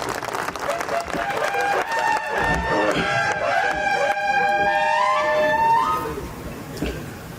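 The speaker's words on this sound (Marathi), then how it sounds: "एकदा जोरदार टाळी त्यांच्यासाठी." A crowd applauds loudly at a public gathering in Maharashtra for the state's rural development minister. The steady clapping swells and holds for several seconds, then fades, with a voice carrying over it.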